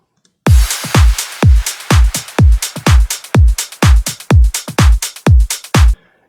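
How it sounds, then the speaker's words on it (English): Punchy melodic house drum pattern from the drop, with a steady four-on-the-floor kick and sharp layered hits, about fourteen even beats heard loud and alone with no talking. "The drums in the drop sound like this."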